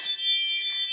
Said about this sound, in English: every time the wind blows, my chimes go off, my doorbell goes off